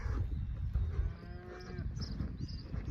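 Cattle being driven through a farm gate let out a long, drawn-out moo over a low rumble of hooves and movement close by.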